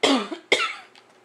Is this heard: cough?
yes